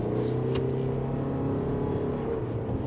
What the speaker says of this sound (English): that was like quarter throttle to half throttle, not even stressing the engine, and we just got up and went